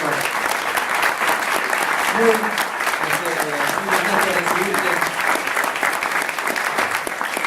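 A crowd claps steadily throughout, dense and sustained applause with a voice speaking briefly underneath.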